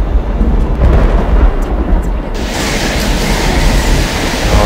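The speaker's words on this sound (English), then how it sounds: "The thunder and all the shaking." Thunder rolling in Left 4 Dead 2 during a storm: a loud, continuous deep rumble with broad roaring noise that swells brighter partway through, no talking over it.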